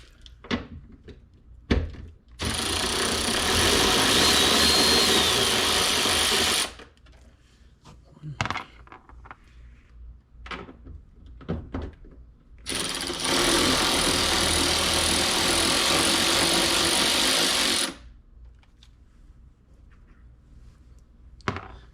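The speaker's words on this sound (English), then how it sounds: "I'm gonna start pulling some bolts here" A ratchet backs out bolts on a 2018 Honda Accord tail light in two long, steady whirring bursts of about four and five seconds, with quieter clicks and handling noises between them.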